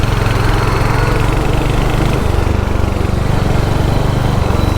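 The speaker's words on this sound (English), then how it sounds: "So basically these 350cc's long stroke engines are basically built for torque, not built for high speeds." A Royal Enfield Hunter 350 motorcycle with a 350cc long-stroke engine runs steadily close by, giving a loud, even, thudding drone with no talk over it.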